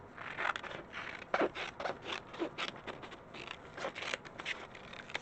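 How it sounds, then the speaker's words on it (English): Scissors snip through a paper mask cut from a cheap dollar-store sketching pad, giving quiet, irregular close-up cuts and scrapes. "Let's see if I can cut a nice mask."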